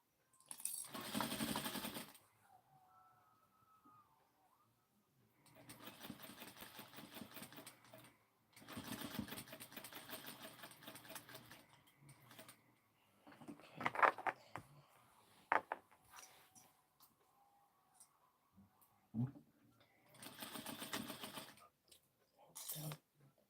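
An industrial sewing machine stitches knit fabric in separate loud whirring bursts of a few seconds each, separated by quiet gaps with small handling clicks and rustles.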